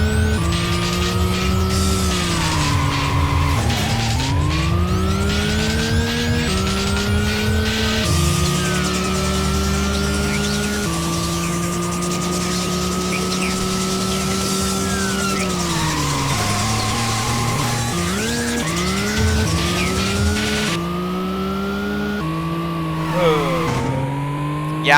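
Cars race in the video game Racing Lagoon, engines whining up and down through repeated gear shifts, with tire skids and squeals, loud and continuous for the whole stretch with no talking.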